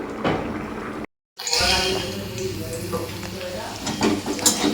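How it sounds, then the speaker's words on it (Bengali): Bitter gourd fries in mustard oil with a steady close sizzle and occasional stirring, cut by a brief silent gap, while a voice talks over it. "এখানে উচ্ছে ভেজে নিচ্ছি।"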